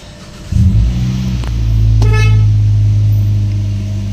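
A Hyundai Kona engine cranks and catches at half a second with a loud burst, then settles into a steady, close idle hum that rises slightly and holds to the end, with a brief tone partway through.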